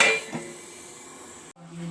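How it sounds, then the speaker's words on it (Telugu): A metal lid set back onto a cooking pan with a short clatter and clink at the start, then a quiet kitchen background of low hum. "పెట్టుకున్న తర్వాత మళ్ళీ మూత పెట్టేస్తాం"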